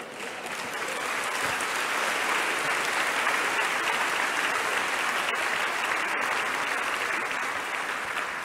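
A church congregation breaks into dense, sustained applause that fills the room at a steady level for several seconds, with no voices over it.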